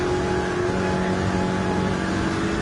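Heard from an in-car camera during an NFRL Oshkosh Series race, a race car engine roars loud and close without pause, holding a steady buzzing pitch for the whole stretch.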